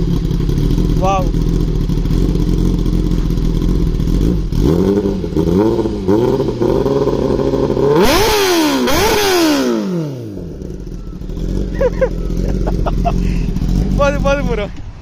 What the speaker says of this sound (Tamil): customised Aston racing exhaust sound